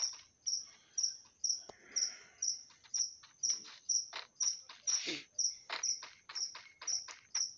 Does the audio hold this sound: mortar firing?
no